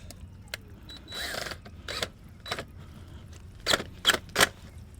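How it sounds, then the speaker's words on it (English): Worm drive hose clamp being tightened on a pool pump fitting: a series of short, close ratcheting clicks and metallic scrapes in bursts, with a denser cluster near the end, no talking. "tighten it down with this worm drive clamp."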